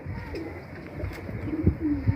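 A pigeon from a breeding pair coos in a short, soft, low burbling series close by, with faint background rustle.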